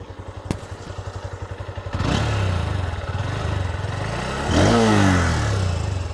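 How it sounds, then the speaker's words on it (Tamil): A Hero CB200 adventure motorcycle idles with a steady exhaust thump, then its engine revs up in two strong, close bursts, the second rising higher and louder before settling back. "இதோட எக்ஸாஸ்ட் சவுண்டு கேட்டு பார்க்குறீங்களா காய்ஸ்?"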